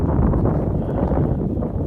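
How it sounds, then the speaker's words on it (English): Steady, loud rush of strong wind through trees in a pasture, buffeting the microphone, a dense low roar with faint rustling, continuous throughout. "Oh boy, it's a strong wind there"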